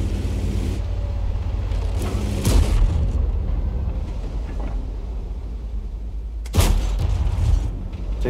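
A tank cannon fires twice in a World of Tanks battle, heavy booming shots spaced a few seconds apart that stand out loudly over a constant low engine rumble, with no talking.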